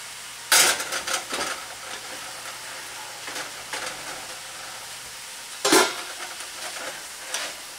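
Hamburger meat frying with wilted spinach in a pan, heard as a low background sizzle punctuated by several loud bursts of scraping and stirring, the strongest near the start and again later.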